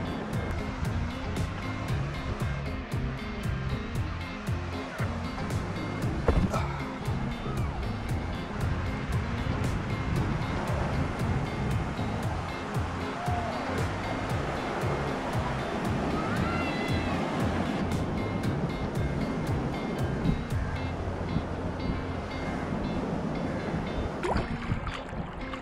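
Surf on Ashwem beach in Goa, waves washing continuously with a broad rushing roar, steady and moderately loud throughout with wind and faint background activity.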